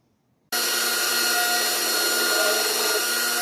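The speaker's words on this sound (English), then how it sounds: "I'm going to square this up on a belt sander, just grind off some of that" A belt sander grinds the steel blank of a Japanese bunka knife, kicking in abruptly after a moment of quiet and holding a loud, steady, broadband whine with no talking.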